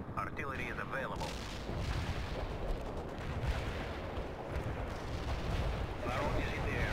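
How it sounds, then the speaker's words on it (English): Artillery barrage in World in Conflict, a Soviet mortar strike: a dense, continuous roll of booming blasts and rumbling detonations holds a steady loud level for the full stretch. "Mortar artillery barrage. Artillery strike on the way."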